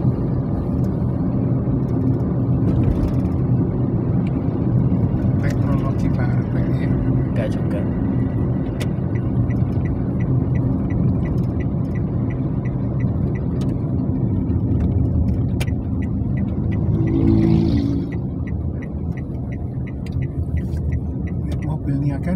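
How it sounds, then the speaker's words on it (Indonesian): A hybrid car engine runs steadily with a low, continuous drone, swelling briefly as it accelerates with electric motor assist, heard from inside the vehicle with no talking. "motor listriknya bantu mesin ya pas ngegas gini ya ada bunyi gitu"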